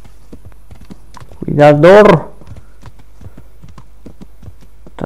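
Hooves of a horse in Kingdom Come: Deliverance clip-clop in a steady, quiet walking rhythm, with a brief horse whinny in the middle, while someone speaks briefly.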